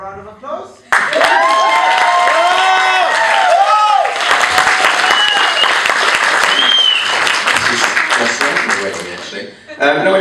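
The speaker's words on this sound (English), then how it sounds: "One round of applause." Crowd applause and cheering after a speech, sustained loud clapping with whoops and voices mixed in, fading out toward the end.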